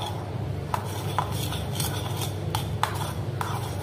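A knife mixes ground chili and coriander leaf paste for an eggplant lasagna, giving soft scraping strokes with faint metallic taps and clicks, close and steady, with no talking.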